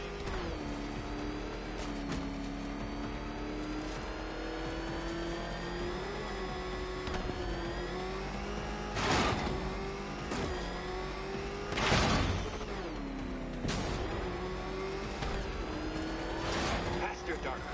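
A car engine revving in Batman: Arkham Knight, a steady droning motor with rising and falling pitch, punctuated by sharp bursts of impact or exhaust noise throughout.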